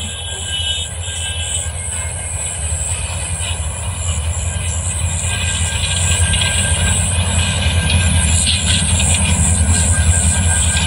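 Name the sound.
train approaching slowly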